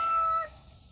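Chickens in a backyard chicken yard give a short rooster-like crowing call, loud and near, which breaks off partway through and leaves quieter ambient noise behind.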